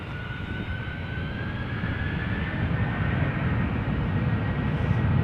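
SAS Airbus A320neo jet taxiing toward the runway at Amsterdam Schiphol: a steady, loud broadband engine roar with a faint whining tone, continuous and slowly swelling, with no voices.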